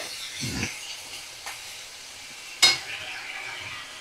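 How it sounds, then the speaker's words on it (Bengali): Prawns frying in a pan over a medium flame, a soft sizzling hiss broken by a few scraping stirs, with one sharper clank near the middle. "ভালো করে দেখো আমি মিডিয়াম ফ্লেমে রেখেই 2 থেকে 3 মিনিট একটু নাড়াচাড়া করব।"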